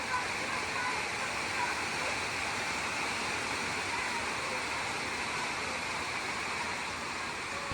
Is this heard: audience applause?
no